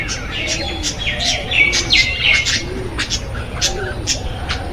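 Small munia birds chirping in quick, high bursts, several calls overlapping nearby, with a soft cooing and low talk underneath.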